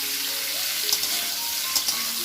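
Salted cauliflower florets fry in hot oil with a continuous close sizzle, and a couple of brief clinks and stirs come through partway in.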